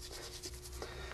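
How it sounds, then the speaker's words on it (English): Brush scrubbing paint off metal miniature figures, a close, quiet rhythmic rubbing with quick repeated strokes over about a second. "as you start scrubbing the figures off, especially metal figures, they come off really quickly"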